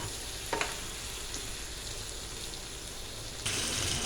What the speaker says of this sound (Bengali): এবার মাছগুলো দিয়ে দিচ্ছি, নেড়ে চেড়ে কিছুক্ষণ কষিয়ে নেব।